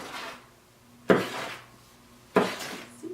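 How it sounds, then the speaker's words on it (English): A mixture being stirred by hand in a container, heard as two sharp clinking strokes about a second apart, each ringing briefly before fading into quiet; no one talks. "Don't stir it too much because We don't want it to froth"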